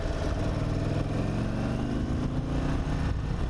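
An Indian Super Chief Limited motorcycle engine running at steady high revs, a continuous rough, vibrating drone held at constant loudness without clear rises or drops.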